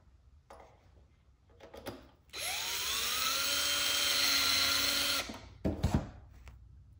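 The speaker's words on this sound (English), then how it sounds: "While using the cordless drill here" A cordless drill driving servo screws into a 35% Extreme Flight Extra NG model airplane whines up loudly in one steady burst of about three seconds, bracketed by shorter clicks and brief revs of the motor.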